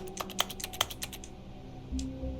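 Rapid clicks of computer-keyboard typing in The Stanley Parable: a quick burst of about a dozen close, crisp keystrokes that trails off into a low hum, with one last faint click.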